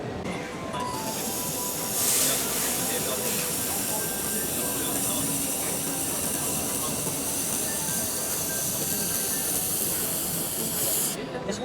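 A handheld welding machine at work, producing a continuous crackling, hissing sizzle that holds steady throughout with brief brighter bursts, close and fairly loud, while a voice talks over it.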